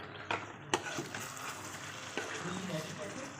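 Whole garam masala and black pepper powder being stirred into Lahori kadahi in a pan: a quiet, steady frying hiss runs throughout, broken by a few sharp spoon scrapes and taps near the start.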